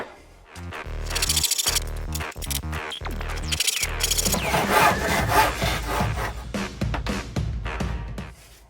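A hand saw cuts the cheeks of wooden tenons, giving steady rasping strokes: clipped, evenly spaced pushes at first, then a continuous, denser sawing rhythm, close and fairly loud with no talking.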